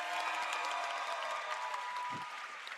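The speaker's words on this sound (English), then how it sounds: "Can we have a big cheer for those guys, please?" An audience at an esports World Championships LAN watch party applauds and cheers, a steady wash of clapping and crowd noise that holds for the whole stretch and fades slightly at the end.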